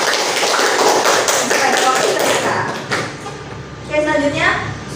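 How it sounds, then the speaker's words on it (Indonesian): A classroom of students claps in a quick burst during a microteaching lesson. After a few seconds the clapping fades and a voice speaks. "beri tepuk tangan dulu"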